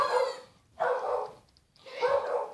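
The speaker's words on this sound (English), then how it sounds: "That's the dog." Three sharp barks from a dog indoors, evenly spaced with short pauses between, moderately loud and close.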